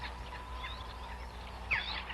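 Turkeys gobble over a steady low hum and murky background noise, with one sharper, louder gobbling burst standing out near the end.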